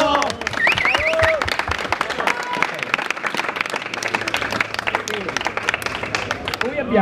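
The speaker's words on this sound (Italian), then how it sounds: "Un applauso a Rico!" Audience applause at a national YouTubers' gathering at the Ferrara fair, steady clapping mixed with crowd chatter and voices for several seconds.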